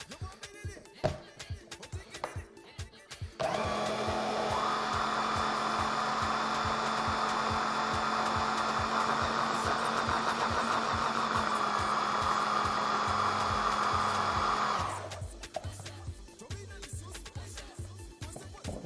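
A kitchen blender re-mixes food with added neutral oil, a loud steady motor whir running about eleven seconds between quieter handling sounds and clatter before and after.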